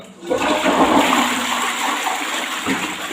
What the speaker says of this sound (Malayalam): പത്ത് പതിനഞ്ച് മിനിറ്റ് നമ്മൾ ഇതുപോലെ വെച്ചതിന് ശേഷം ഒന്ന് ഫ്ലഷ് ചെയ്ത് കൊടുക്കാം